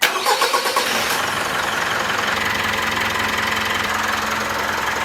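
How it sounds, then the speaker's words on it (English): A brand-new touring car's engine starts after a fuel water separator and catch can install: a few quick cranking pulses, then the engine catches into a steady, loud, even idle that continues to the end. "we're just going to start the car now and check for any leaks"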